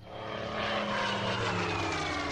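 A WWII propeller aircraft engine drones steadily in the strategy video game Order of Battle, a brief continuous hum that swells slightly as the unit moves.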